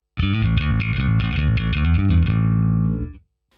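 Bass guitar played through a Line 6 HX Stomp with cab simulation switched on, a short run of plucked, distorted, chorused notes ringing out for about three seconds before cutting off.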